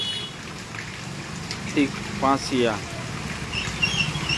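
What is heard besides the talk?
rain falling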